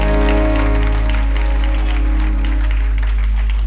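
A church congregation applauds and acclaims God, the steady clapping running continuously under sustained musical tones throughout.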